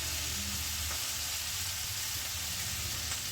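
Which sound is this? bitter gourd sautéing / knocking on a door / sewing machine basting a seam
bitter gourd sautéing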